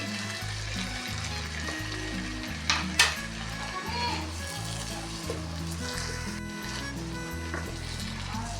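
Mixed vegetables sizzle steadily in hot oil with fried onion and garlic for a dried rita fish dish, a continuous close frying hiss with a brief clatter near the middle and music underneath.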